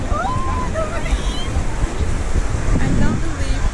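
Pacific Ocean surf at Punta Mita, Mexico, a steady wash of breaking waves and water churn at close range with wind buffeting the microphone; voices come and go in the background.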